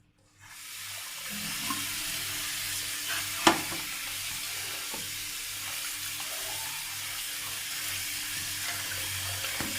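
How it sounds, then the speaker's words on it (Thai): Fishing net thread being washed by hand in water before dyeing, with steady splashing, swishing and sloshing throughout, a brief sharp knock partway through, no talk. "เราเริ่มมาทำการล้าง ล้างก่อนล้างทั้งสองรอบ"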